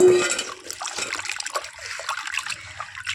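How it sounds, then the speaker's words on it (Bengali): Water splashes and trickles as freshly cut fish are rinsed in a bowl, a short run of close, wet sloshing sounds with no talk. "আর মাছগুলো জলে ধুয়ে নেবে।"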